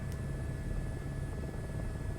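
Helicopter in flight in Microsoft Flight Simulator 2024 career mode, a search-and-rescue flight: a steady, close rotor and engine drone with an even low rumble, heard alone without any talk.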